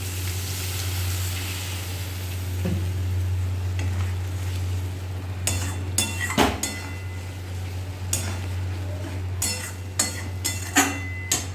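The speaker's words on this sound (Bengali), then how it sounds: "তো চলো আর একটু জল দিয়ে মশলাটাকে একটু কষা হতে দেবো।" Masala spices cooking in a pan with a little added water, a steady low sizzle underneath, later broken by sharp scraping and clinking as a utensil stirs against the pan, no voices.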